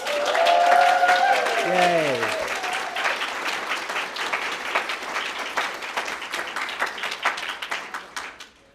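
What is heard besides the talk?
audience applause for prize nominees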